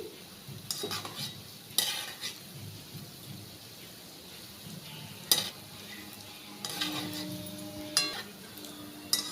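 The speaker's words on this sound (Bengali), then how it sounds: "তো আমি খুন্তির পিছন দিক দিয়ে মিষ্টিগুলোকে একটু পাল্টে দিচ্ছি" Gulab jamun frying in hot oil over a high flame and turned with the back of a spatula, a soft steady sizzle broken by sharp clinks and scrapes of the metal utensil against the pan.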